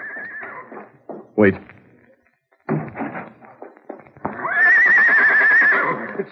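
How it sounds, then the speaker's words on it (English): A horse whinnies loudly in a long, wavering neigh near the end of a radio drama sound effect, after hoofbeat-like thuds and someone speaking. "It's Tonto's horse."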